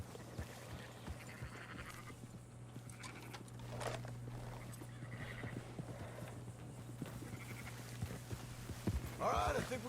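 In the Red Dead Redemption 2 game, horses clip-clop along a trail with rhythmic hoofbeats throughout, while other sounds including a horse's snort or neigh pop up, and a low steady hum runs underneath.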